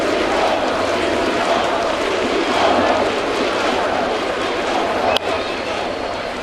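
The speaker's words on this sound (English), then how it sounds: "Crowd chanting Ichiro, Ichiro." A big crowd at a Yankee Stadium baseball game between Baltimore and New York roars and chants in a loud, sustained wall of voices, with a sharp crack near the end.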